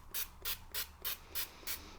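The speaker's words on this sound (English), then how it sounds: "just grab some Frylight and give them a little bit of a spray before they go in" Six short, even bursts of Frylight cooking oil spray hit hash browns before they go into the air fryer, close and crisp, with steady pauses between them and no talking.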